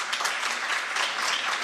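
Audience applause at a literacy quiz competition grand finale, steady dense clapping from a crowd filling the whole moment without a break, with no voices over it.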